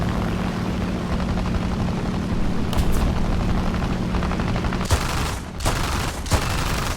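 Aircraft guns in the video game War Thunder rattle in rapid bursts over a droning propeller engine, with several sharp, loud volleys near the end.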